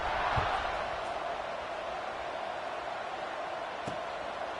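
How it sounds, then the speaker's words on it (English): A football stadium crowd at a college game against SMU keeps up a steady, loud, distant roar after a score. "this crowd is buzzing after that last score."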